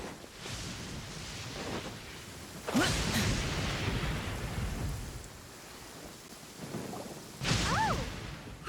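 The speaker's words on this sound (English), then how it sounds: "Where is the storm headed?" Thunderstorm in Genshin Impact: rumbling thunder rolls and a sharp crack amid steady rain noise, with a second loud burst near the end and faint voices passing briefly.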